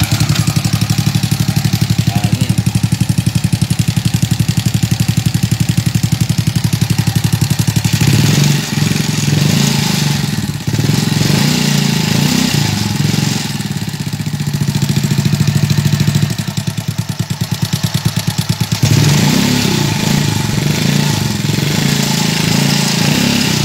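A small engine-driven water pump runs close and loud, a steady throbbing drone with brief dips and surges in speed, alone with no talk over it.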